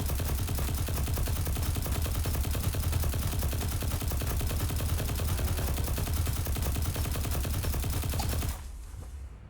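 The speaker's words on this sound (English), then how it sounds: "So me just shooting with my basic gun" Rapid automatic gunfire from a submachine gun in the video game Destiny Rising, a dense continuous stream of shots that runs loud and steady for most of the clip, then cuts off abruptly near the end.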